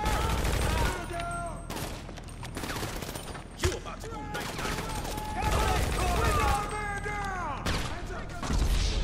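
Continuous gunfire in a GTA 5 Online shootout, dense overlapping volleys of automatic shots with a few louder cracks, loud and sustained throughout, with speech heard among the shooting.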